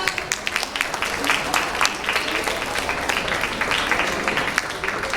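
An audience claps steadily for a children's dance performance, a dense continuous patter of many hands lasting throughout at even loudness.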